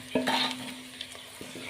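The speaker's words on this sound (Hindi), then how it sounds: "अच्छे से इसको भी हम फ्राई कर लेंगे, गरम मसाले को भी और ज़ीरे को भी" Cumin and garam masala fry with browned onions and curry leaves in a pan for dal mash, giving a quiet sizzle with a couple of sharp spoon stirs and scrapes, close by.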